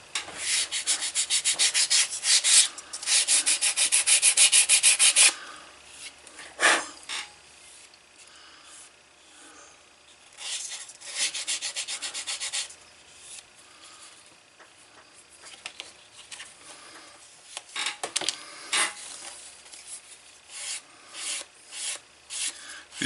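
A leather wallet edge is sanded with 320 grit sandpaper, giving bursts of dry, scratchy rubbing in short strokes with pauses between them, close and fairly quiet.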